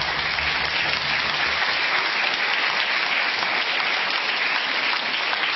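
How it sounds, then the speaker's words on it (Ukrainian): Sustained studio audience applause on a Russian talk show, a thick continuous roar of clapping at even loudness with no speech. "Спасибо еще раз за аплодисменты. Искренние аплодисменты, я должен заметить."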